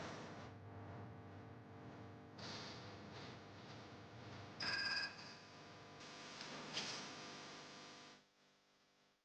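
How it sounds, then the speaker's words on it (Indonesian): A telephone rings and goes unanswered, a faint repeating electronic ringtone sounding in a few bursts before cutting off. "Si Bella sekarang kalau ditelepon nggak langsung ngangkat."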